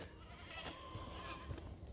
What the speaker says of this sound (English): I made it over here to our goats.